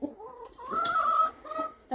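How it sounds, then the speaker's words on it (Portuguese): Chickens cluck close by in a farmyard, a short run of throaty, varied clucks and squawks, fairly loud with no talk over them. "Olha os frangos da minha irmã, as galinhadas aí, coisa bonita, olha."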